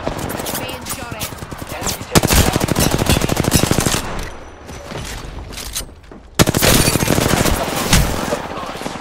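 Rapid automatic gunfire from the video game Apex Legends rattles in loud bursts, stopping briefly and then resuming, with game voice callouts mixed in between the volleys.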